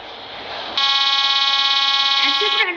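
A train horn in a video game blares loud and steady for about two seconds, its layered tones holding flat before cutting off, following a short stretch of quieter game background.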